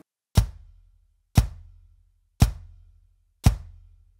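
Four evenly spaced, sharp kick-drum thumps from both pedals of a Roland VAD706 electronic drum kit pressed together, each with a short decaying low tail, played alone without talk.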